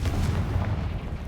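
The Confringo fire-blast spell in Hogwarts Legacy lands as one heavy, booming burst of low rumble. The blast fades out over about a second, loud and close, with no voices.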